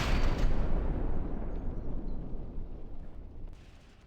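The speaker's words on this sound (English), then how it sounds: "Here comes some of the mortars." Mortar shells landing in a video game battle: a loud, rumbling blast that slowly fades into a low, grumbling tail, followed by a sharp crack near the end, with no voices.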